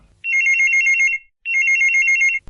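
A telephone rings twice on a call-in radio show, two bursts of rapid electronic trilling separated by a short gap, clear and close, with no talking.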